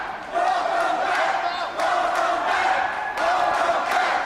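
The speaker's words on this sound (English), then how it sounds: "A huge welcome back chant erupting from the crowd." Wrestling crowd at a 3PW event in Philadelphia chanting in unison, a loud rhythmic roar of many voices that swells in repeated waves across the arena, with no other speech over it.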